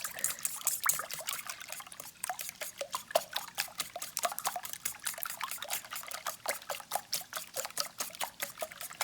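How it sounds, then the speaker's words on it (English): Eggs whisked in a bowl for a spinach quiche: rapid, regular clinking strokes repeating close by with no talking. "we're going to give these a whisk"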